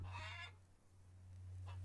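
Chickens in the Farmer's Dynasty farming game, a few short clucks at the start and again near the end, close and fairly quiet over a steady low electrical hum.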